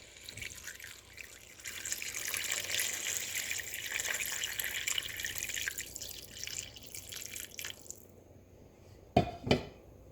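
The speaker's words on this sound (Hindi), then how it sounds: "अब इसमें पानी डालना है।" A continuous splashing pour of about 2.5 cups of water into a pot of potatoes for aloo gosht runs for several seconds, then stops, followed by two sharp metallic clinks of the pot.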